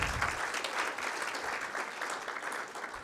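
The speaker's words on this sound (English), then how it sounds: "Another round of applause, ladies and gentlemen." Steady applause from an audience at a fertilizer website launch and rebranding event, a continuous dense patter of many hands that holds evenly for the whole stretch without a break.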